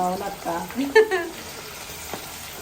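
Large pieces of fish coated in cornflour frying in hot oil, a bubbling sizzle that is partly covered by nearby voices and a few clatters, then thins to a softer crackle.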